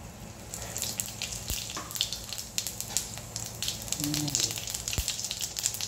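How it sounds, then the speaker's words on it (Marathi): Cumin seeds splutter in hot oil in a kadai, a close, steady sizzle dotted with small sharp pops and crackles. "आता कढईमध्ये आपण तेल तापत ठेवलेलं आहे. आता ह्यामध्ये आपण थोडंसं जिरे"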